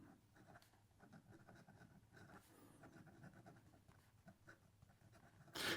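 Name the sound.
Wancher Matcha fountain pen reverse writing on paper, slightly scratchy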